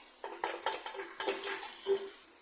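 Chicken pieces tumble into a pot of masala for chicken dum biryani and get stirred, with soft clinks and scrapes of a spoon against metal over a steady frying hiss; no talking.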